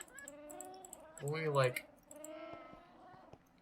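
An ocelot meows in Minecraft, a short rising cry that stands out briefly between stretches of someone talking.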